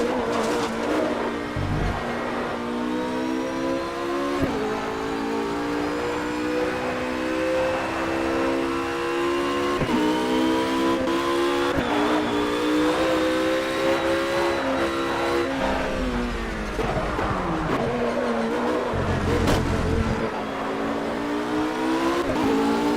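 A race car engine in the racing video game Project CARS, in a damaged car, drones loudly and continuously, rising in pitch through repeated accelerations and dropping at each gear change, with a few brief knocks and no talk.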